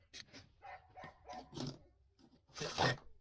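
A dog gives a run of rough, growly barks and snarls at moderate distance, irregular and uneven, ending in a louder burst.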